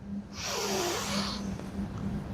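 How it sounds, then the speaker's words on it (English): A slow, deep inhaled breath during a stress-management breathing exercise, an airy rushing sound swelling for about a second close to the microphone, over a faint steady hum. "Take a deep breath in."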